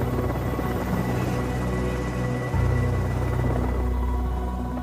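A helicopter carrying wounded and sick evacuees to Louis Armstrong Airport in New Orleans drones steadily and loudly with a dense rotor and engine roar that holds constant throughout, with no voices.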